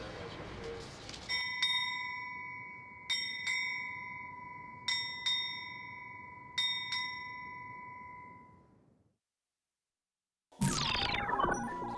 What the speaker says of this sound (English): Strike 8 bells on time.